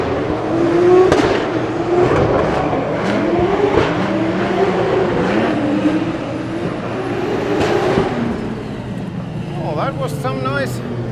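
Drift cars run in tandem at a Drift Masters practice session in Germany, engines wailing and revving continuously and loudly with shifting pitch, while a commentator talks over the noise throughout.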